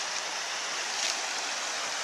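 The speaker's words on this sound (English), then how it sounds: "Let's see the creek." A creek at a camping spot near Eildon and Jamison in April gives a steady, close rush of flowing water, a broad continuous wash with no pauses and no voices.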